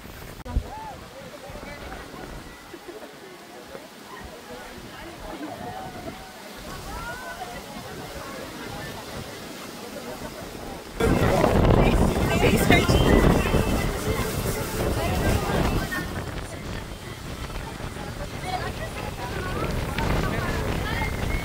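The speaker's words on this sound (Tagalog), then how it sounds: "Lakas ng hangin, oh." Strong wind on Mt. Pinatubo roars and buffets the microphone, suddenly intensifying partway through into a loud, continuous rushing gust.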